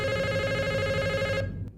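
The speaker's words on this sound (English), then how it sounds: "It's just a phone ringing." A telephone rings in the horror film Smile, a steady electronic ringtone repeating for over a second before cutting off abruptly, sounding close with no talk over it.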